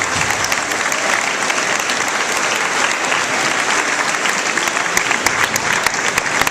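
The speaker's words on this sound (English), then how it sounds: "Let's give them a round of applause." Audience at an award ceremony applauding a group of award nominees, a dense, steady wash of clapping hands that holds at full strength from start to finish with no pauses.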